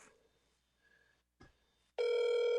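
A telephone rings through a handset line, a loud steady electronic ring tone starting abruptly after faint line noise and a click, no talking.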